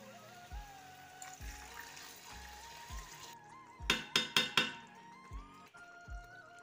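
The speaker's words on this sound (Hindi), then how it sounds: "हम इसमें 1 कप पानी ऐड करेंगे।" Water is poured into a pot of chicken curry masala cooking in oil, giving a short burst of splashing and sloshing amid soft kitchen clatter and scattered light clinks.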